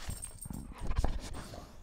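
A pet dog whimpers softly and pants in short breathy bursts, heard close and fairly quiet with no talking over it.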